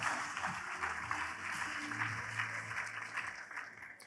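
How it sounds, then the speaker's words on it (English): Audience applause before a startup pitch, a moderate crowd clapping steadily for about four seconds, with a low voice or music underneath the claps. "Applause, please, applause, applause."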